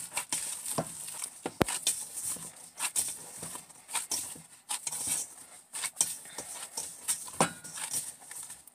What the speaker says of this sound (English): And we knead this dough.